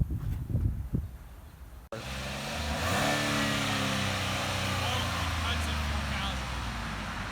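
A 2011 Jeep Liberty engine revs up and holds at a high, steady drone, heard nearby after a short stretch of talk and a sharp click.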